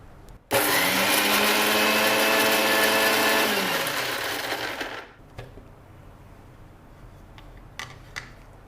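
A kitchen grinder blends red chilies and crystal salt into a coarse paste for masala vada. A loud, steady motor whir runs for about four seconds, winds down and stops, followed by a few faint clicks.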